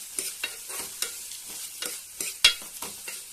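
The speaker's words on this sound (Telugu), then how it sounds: "ఇప్పుడు ఈ విధంగా కలుపుతున్నానండి" A spoon scrapes and stirs potato and brinjal curry with ginger garlic paste in a pan, making a steady rhythm of close, brisk scrapes under a faint sizzle, with no talking.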